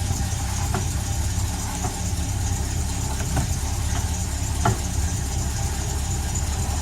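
Car engine idling steadily while a Powerglide automatic transmission is serviced and its fluid level checked, a constant low rumble with a few faint clicks and knocks, no speech.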